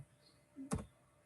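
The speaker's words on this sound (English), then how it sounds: "here I'm typing the number" A single quiet keystroke, or a quick pair of them, clicks on a computer keyboard while numbers are entered into an MS Excel sheet, with a soft hum and near-silence around it.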